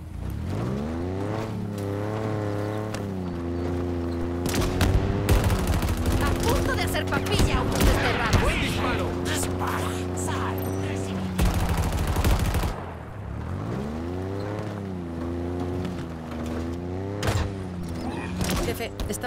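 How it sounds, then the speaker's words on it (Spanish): Turret fire in Halo Infinite's campaign: sustained bursts of heavy gunfire over a droning vehicle engine, loud and close, with game voices talking over much of it. "Estoy tomando la torreta."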